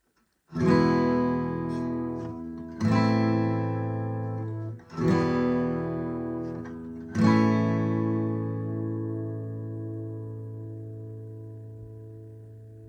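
Four guitar chords strummed one after another, each ringing out, the last left to sustain and fade slowly.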